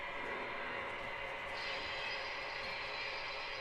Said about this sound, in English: Next we have the Penn Central sound car coming in.